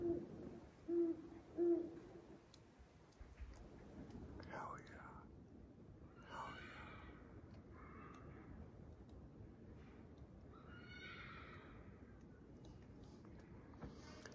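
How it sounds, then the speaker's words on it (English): Soft owl hoots at night near a horse camp on a coastal trail, a few low calls early on, then faint whispered talk close by over a quiet background. "so I get to fall asleep to the sounds of hooting owls and horses"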